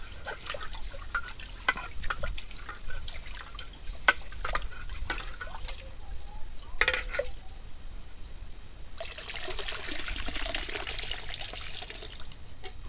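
Rice being washed in water in a home kitchen: quiet sloshing, trickles and drips through the first half, then a softer rushing pour toward the end.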